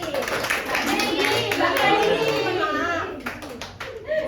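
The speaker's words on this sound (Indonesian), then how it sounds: "Tepuk tangan untuk Mbak Rizky." A small classroom of students claps for a classmate during a practice teaching lesson, a brief burst of hand clapping lasting about three seconds and then fading into scattered claps, with children's voices mixed in.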